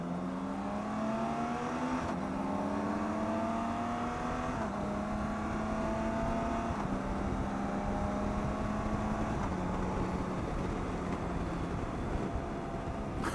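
A BMW K1600B motorcycle engine pulls in first gear with a steady, close drone, its pitch climbing in repeated rising sweeps as the revs build and step through the run.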